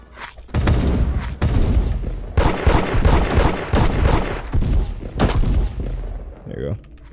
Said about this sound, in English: Oh, I hear a lot of shooting.